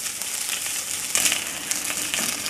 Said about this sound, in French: Les mini poivrons bien saisis. Et je laisse cuire comme cela,